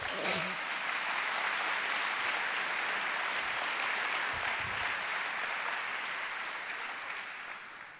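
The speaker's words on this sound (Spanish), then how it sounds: "Le damos un aplauso al rey, pues." Sustained applause from a lecture audience for the speaker, a thick, even roar of many hands clapping that holds for several seconds before slowly fading, with a faint voice at the start.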